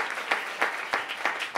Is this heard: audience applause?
yes